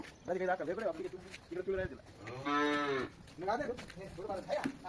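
A cow moos in long, drawn-out calls, with a sustained loud low at the middle, alongside other lowing from nearby cattle.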